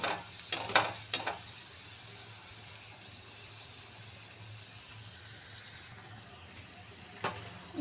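Karchikai fry in oil over a medium gas flame with a steady, soft sizzle, broken by a few sharp clinks and clatters near the start and once more near the end.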